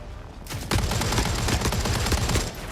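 Rapid, loud video-game gunfire rattles almost continuously after a short quieter lead-in, a dense burst of shots close up with no talk.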